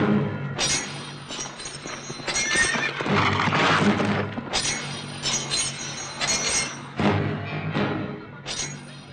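A horse neighs loudly in repeated shrill whinnies over about nine seconds, with hooves clip-clopping and some clinking in the background, and no talk.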